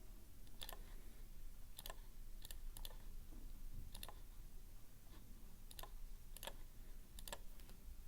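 Calculator keys are tapped, a series of light, close clicks at an irregular pace, some in quick pairs, very faint over a steady low background hiss.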